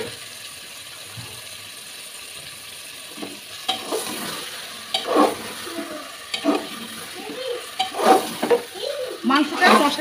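Meat being stirred into spice paste and fried in a pan, with sizzling and intermittent scraping stir strokes that get louder and more frequent partway through, close and clear without talk.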